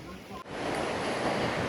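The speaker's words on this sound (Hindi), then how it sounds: "तो ये नदी बह रही है जो कि मुक्तिनाथ से आती है।" The fast-flowing Kali Gandaki river in Nepal, running down from Muktinath, gives a steady broadband rush that swells slightly after a brief dip, with wind mixed into the roar.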